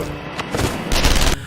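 A gunshot in a film, fired as a team raids an empty warehouse: a couple of sharp, loud booming bursts cut through a busy background within a second and a half.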